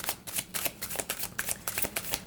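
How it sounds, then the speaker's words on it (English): A deck of tarot cards riffle-shuffled in quick, uneven bursts of crisp flutters, close and fairly quiet, with no voices. "I'm having a hard time shuffling."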